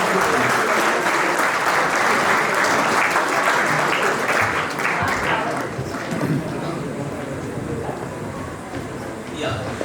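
Dense applause from the audience at a Model United Nations closing ceremony salutes the organizing committee, loud and sustained before tapering off, with voices mixed into the crowd noise.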